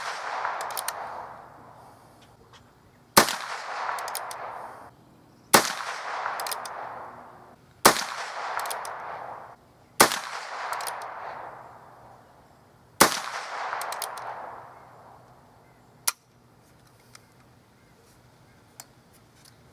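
A Heritage Rough Rider Rancher revolver firing six sharp, loud gunshots outdoors, spaced a couple of seconds apart, each followed by a short ringing echo, with a faint seventh pop at the end.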